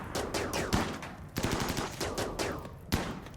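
Rapid automatic gunfire from a military turret in the game RimWorld, a dense rattling burst of shots with sharper cracks standing out, loud and continuous for the whole stretch with no talking.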